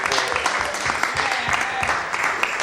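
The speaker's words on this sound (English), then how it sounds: "let's give a rousing round of applause for the Cannabis Cup and the High Times Hemp staff." An audience at a Cannabis Cup event claps in a dense, steady burst of applause, close and fairly loud, lasting a few seconds.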